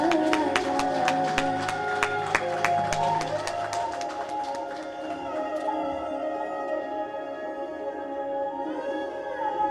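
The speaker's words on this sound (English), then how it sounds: "A round of applause for the bride, please." Guests clap and cheer for the bride at a Hindu wedding ceremony, loud rhythmic hand claps over a crowd murmur with ringing bell-like tones, the clapping fading after about four seconds while sustained music carries on.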